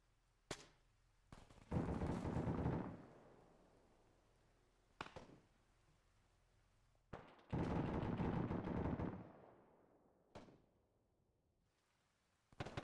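Machine gun fire in the video game Ghost Recon, two long, loud sustained bursts separated by sharp single shots, each burst trailing off into quiet.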